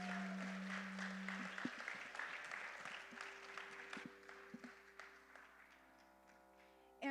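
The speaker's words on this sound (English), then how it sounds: "So let's give another big round of applause to our two Nartakis." Audience applause after a Bharatanatyam dance performance at a Rangapravesam, a hall full of clapping that fades gradually, with sustained tonal hums from instruments or equipment lingering underneath.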